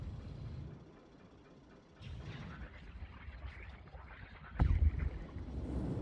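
A submarine glides underwater in the video game Inside, producing a low rumbling, churning wash of water and machinery that rises after a brief quiet dip, with a louder surge of thrust near the end.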